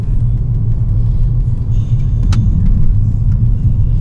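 A car on the road toward a holiday house gives a loud, steady low rumble of engine and tyre noise, with a faint brief squeak partway through and no voices.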